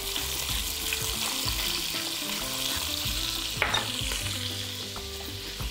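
Lamb pieces fry in a pot for a bozbash stew, a steady close sizzle with scraping stirring clatters throughout and one sharper clank near the middle.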